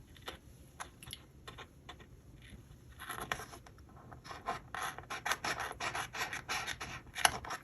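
Scissors or a trimmer cutting excess paper off a sheet of extra large bullet journal stickers, a quiet run of close, scratchy rasping snips that grow denser toward the end, with no talk.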